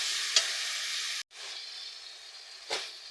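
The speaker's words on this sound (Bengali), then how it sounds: "টমেটোটা ভালো করে আমি ভেজে নেব।" Tomato frying with ginger-garlic paste in a pan, a close steady hiss of sizzling that cuts off briefly and resumes, with a couple of sharper spits of crackle.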